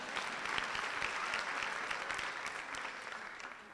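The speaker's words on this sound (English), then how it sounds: "Give him a round of applause, please." Audience applause at a university graduation ceremony, a sustained round of many people clapping, with sharp individual claps standing out over a steady crowd texture throughout.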